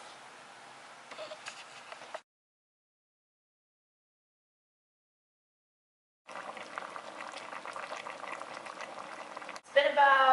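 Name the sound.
chicken adobo simmering in a covered pot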